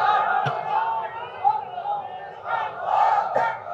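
A large crowd at an outdoor Islamic gathering shouts takbir together, a loud, roaring chant in surges that rise and fall, with a sharp knock near the start.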